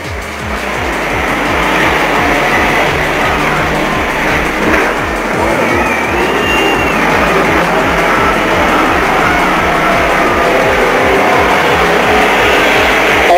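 Banger racing cars roar continuously around the oval at Arena Essex, a dense, loud wash of engines and crowd noise with a commentator's voice running underneath throughout.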